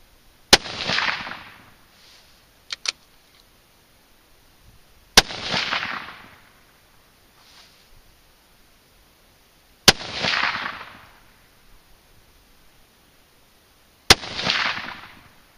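A .243 rifle firing Sierra 95 grain TMK handloads with IMR4831 powder outdoors: four sharp, loud cracks spaced about every four to five seconds, each trailing off in a brief rolling echo.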